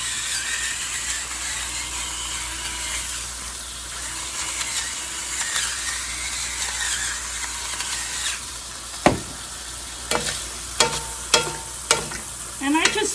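Chicken pieces seasoned with Himalayan pink salt and black pepper browning in a pot for okra gumbo, giving a steady close sizzle with stirring and a few sharp scraping knocks of a utensil near the end.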